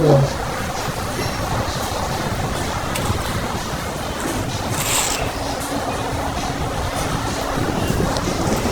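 Strong storm wind buffets the microphone in a loud, continuous rumbling roar, steady throughout with occasional gusty surges.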